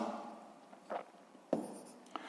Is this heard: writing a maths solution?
yes